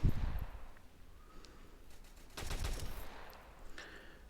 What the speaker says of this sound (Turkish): Buradan biraz da taramalı tüfek kullanarak öldürmeyi deneyeceğim.